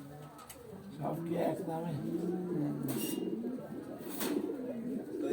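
Pigeons of various breeds coo in low, rolling phrases close by while people talk over them in conversation, the birds' murmuring running steadily beneath the voices.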